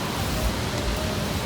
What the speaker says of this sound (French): Là, il recommence à pleuvoir en plus.